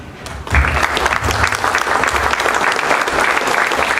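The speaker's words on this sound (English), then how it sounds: "The rest of you didn't have to clap, but Tony Myers had to clap." A crowd at a quarterback club luncheon in New Orleans bursts into applause after a short pause, a full, steady roar of many clapping hands that holds evenly to the end.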